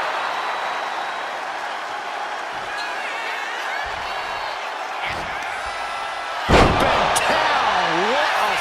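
A heavy body slam impact in the WWE 2K25 wrestling game, one loud thud landing over steady arena crowd noise, with commentary voices heard around it.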